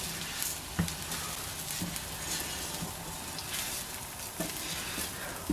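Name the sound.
stirring paella rice sizzling in pan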